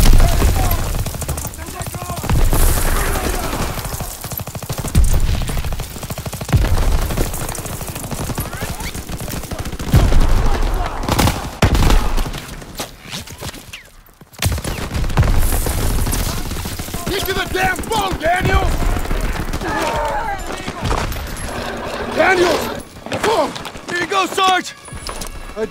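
Covering gunfire and machine guns in a Call of Duty WWII battle, loud bursts of rapid shots and impacts that come and go, mixed with people shouting and talking over the noise.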